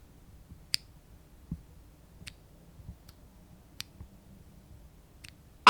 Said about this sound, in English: It's that tactile bump down, bottom out, tactile bump up, topping out sound.